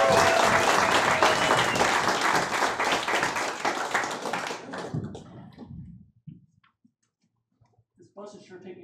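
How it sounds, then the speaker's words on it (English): A comedy club audience bursts into loud applause and scattered whoops after an improv set, fading out over several seconds, followed by near silence and a few faint sounds. "Give them a round of applause."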